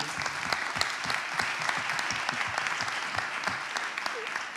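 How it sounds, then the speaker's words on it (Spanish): An audience at a public television presentation claps steadily for several seconds, with individual claps distinct in a fairly even, moderately loud wash. "Podemos aplaudir."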